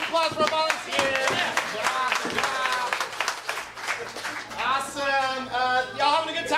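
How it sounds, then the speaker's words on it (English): A crowd at a family-friendly comedy show claps for volunteers, a steady wash of applause of moderate loudness, with voices speaking and calling out over the clapping throughout. "Give another round of applause for our volunteers."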